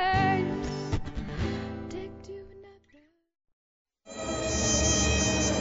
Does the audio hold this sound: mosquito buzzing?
yes